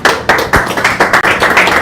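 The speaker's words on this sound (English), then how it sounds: "And a round of applause." Applause at a Hazina Acceleration Program event: a handful of loud, distinct claps at a moderately quick, uneven rhythm, close by and sounding like only one or a few people clapping rather than a large crowd.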